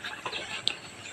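A chicken gives a brief, faint cluck, with one sharper peep standing out against low background noise.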